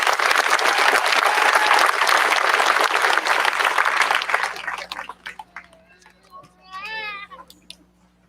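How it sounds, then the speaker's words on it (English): Dense, loud applause from a large crowd at an 8th grade promotion ceremony fills the first five seconds, then thins into scattered claps and a few voices, with a child's cry near the end. "Let's give them one last round of applause."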